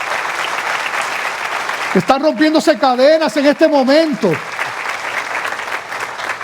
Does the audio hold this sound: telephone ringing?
no